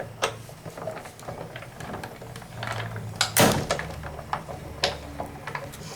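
A die-cutting machine with a magnetic platform is cranked through, giving a run of close clicks and ticks with a louder creak and clunk partway and scattered small creaks after.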